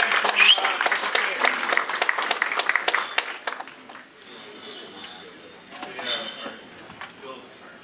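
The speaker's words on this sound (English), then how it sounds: "Round of applause for Barton Nicholls." Meetup audience applause after a speaker introduction, a burst of clapping from a room of people for the first few seconds that thins out and fades into quieter room noise and murmuring.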